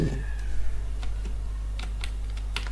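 Typing on a computer keyboard in Notepad, a scattered series of light, separate key clicks over a steady low hum, close and moderately quiet.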